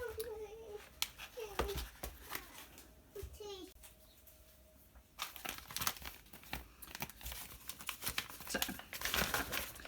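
Plastic vacuum sealer bag being torn and cut off a boxed roll, with crinkling and tearing bursts of plastic up close, a short voice at the start and rustling handling sounds throughout.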